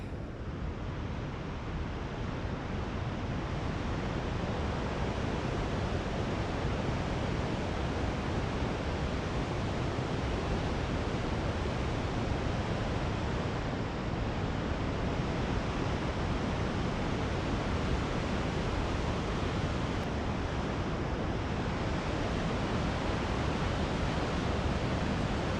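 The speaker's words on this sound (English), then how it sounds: "If we're close here, you can hear the whoosh of the waterfall, this kind of noisy, fluffy stuff that happens." Large waterfall on the NWT Waterfall Route, heard up close as a dense, unbroken whooshing roar that stays loud and even from start to finish with no voices.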